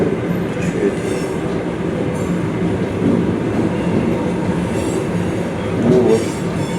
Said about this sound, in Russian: О, поезд. Прикольно. Поезд.